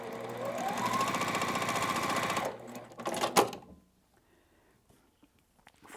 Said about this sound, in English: I'm going to sew 2 sides